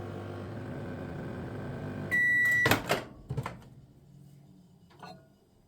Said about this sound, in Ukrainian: Зараз подивимось, що там нагріє мікрохвильовка.